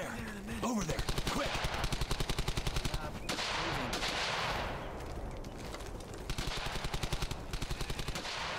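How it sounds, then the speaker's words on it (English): Allied soldiers fire machine guns in the Brothers in Arms: Hell's Highway video game, rapid bursts of automatic fire rattling in long rhythmic volleys with short pauses between them. "Oh, that's our guys firing,"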